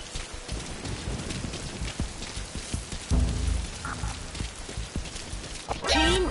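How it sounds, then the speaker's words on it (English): Rain falling in the Metal Gear Online video game, a steady hiss of pattering drops under game sounds, with a thump and a brief whirring effect near the end. "I can't see in this rain."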